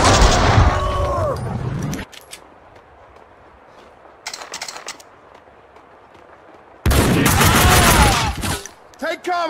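Bursts of gunfire from the video game Max Payne 2, loud and dense in two main volleys near the start and end, with sparser shots between and shouted voices mixed in.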